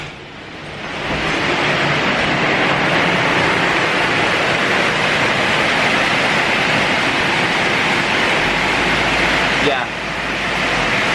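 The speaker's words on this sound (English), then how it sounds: "look at the stream coming off the roof here" Heavy tropical rain pours down in Bali, water streaming off a roof in a loud, continuous roar that fills the whole stretch; a voice briefly speaks near the start.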